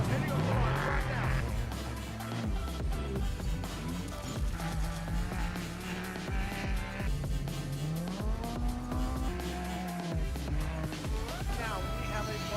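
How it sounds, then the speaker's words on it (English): Off-road race trucks roar off the start line at the San Felipe 250 desert race, engines revving hard through rising and falling gear changes, loud and close under an announcer's continuous commentary. "Here we go, the first 2 cars heading on the line right now."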